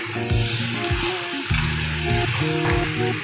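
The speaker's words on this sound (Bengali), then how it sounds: "চলুন ভালো করে মাংসটাকে কষিয়ে" Mutton frying with spices crackles in the pan while being stirred, with wavering tonal scraping and clatter over the sizzle.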